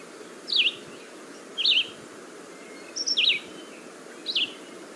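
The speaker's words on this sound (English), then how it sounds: "So the red-eyed vireo sounds something like this." A red-eyed vireo sings four short, separate phrases at a steady cadence, each a quick high burst, clear against a quiet outdoor hiss with no talk.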